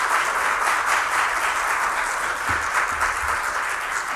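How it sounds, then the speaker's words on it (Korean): A church congregation gives thanks-and-encouragement applause to its pastor, who is stepping down after nearly ten years: a continuous, full wash of clapping from many people, steady and unbroken. "감사와 격려의 박수로 우리 목사님"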